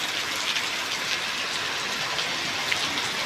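Steady rain drums on a tin roof, a dense, even hiss of drops close overhead with no let-up.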